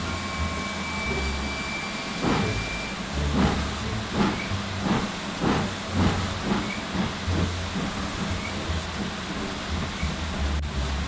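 A steam locomotive pulls away in a steady, continuous hiss of steam. Rhythmic chuffs about once a second sit over a low rumble, and faint whistle tones are heard early on.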